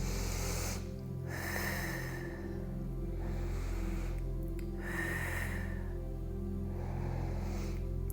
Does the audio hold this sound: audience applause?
no